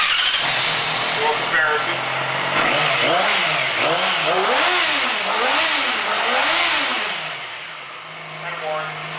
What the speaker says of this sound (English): Let's just hear the exhaust note with the stock exhaust.